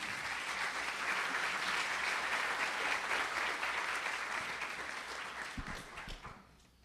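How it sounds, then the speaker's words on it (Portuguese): An audience claps steadily for a professor stepping onto a stage at a career development talk, a dense sustained applause that fades away near the end. "Palmas para a professora Tânia"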